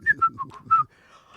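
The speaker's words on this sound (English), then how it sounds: "Whistle for me" A person whistling a short tune of five quick, clear notes, close and fairly loud, followed by a faint trailing whistle.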